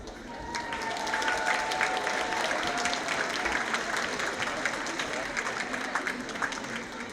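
Concert audience at a cover band show claps in sustained applause that swells after a moment and carries on steadily, with a voice briefly heard over it.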